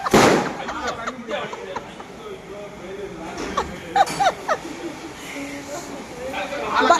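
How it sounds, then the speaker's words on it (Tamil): Diwali firecrackers burst outdoors as scattered pops and crackles, some near and some distant, under ongoing talk and crowd noise. "ஒரு 50 அடி உயரத்துக்கு செஞ்சு வெடி வெடிச்சாங்க"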